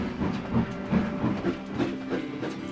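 A train in the Trainz Railroad Simulator video game rumbles along with rhythmic clickety-clack beats and a low hum, steady and close, with no voices.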